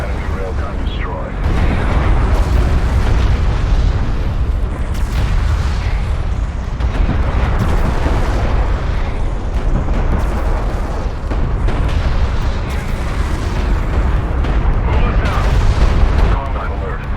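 Railgun blown apart in the real-time strategy game Deserts of Kharak, a loud, dense booming blast amid continuous artillery-like rumbling and crackling battle noise that runs throughout.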